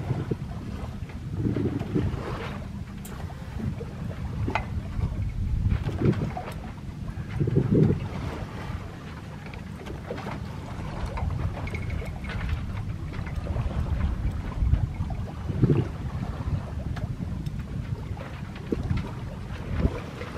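A sailboat under way in Bahia de Mujeres near Cancun, with steady wind buffeting the microphone and water rushing and slapping along the hull, loud and continuous with occasional gusts and splashes, no voices.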